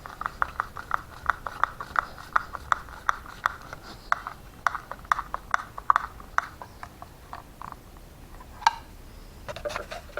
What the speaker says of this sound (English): I'm gonna put a star screw in using a Phillips or a star screwdriver.